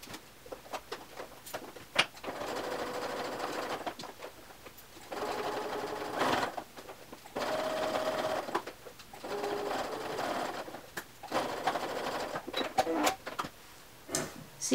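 A sewing machine stitching in the ditch along a fabric seam, running in several close, steady whirring bursts separated by short pauses, with faint background bird coos.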